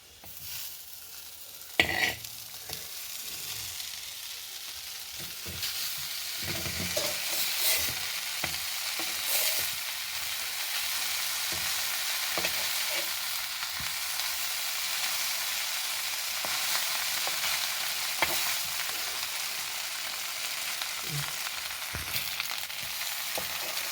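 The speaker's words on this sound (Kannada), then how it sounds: "ಈಗ ರೋಸ್ಟ್ ಮಾಡ್ಕೊಂಬ ದೋಸೆ ಕಲ್ ಮೇಲೆ ಹಾಕಿ." Buttered bread toasting on a hot dosa griddle gives a steady, loud sizzle throughout, broken by occasional sharp crackles and pops.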